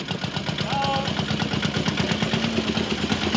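A 1950s farm tractor engine chugs steadily up close, its loud, rapid, even firing pulses continuous throughout, with a brief higher tone briefly above it.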